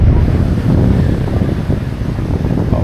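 Morning wind buffets the microphone on Canasvieiras beach, a steady low rumbling roar with surf-like wash, fairly loud and continuous with no talking.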